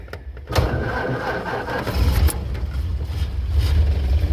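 A 1931 Ford Model A 5-window coupe cranks on its starter, then catches into a close, low, rumbling idle.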